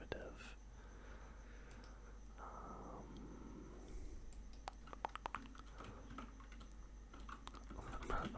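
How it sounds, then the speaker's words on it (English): Typing on a computer keyboard in a quiet room, with quick irregular clusters of soft, close key clicks that grow busier toward the end, under faint background hum and occasional low murmuring. "I'm typing in like all sports."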